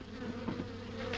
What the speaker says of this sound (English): now he had over 100 hives of bees